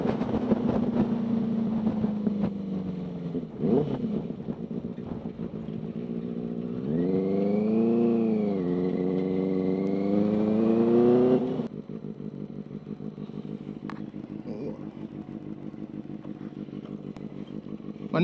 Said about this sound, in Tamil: இது தாங்க பெனலி 600 ஐ சவுண்டு.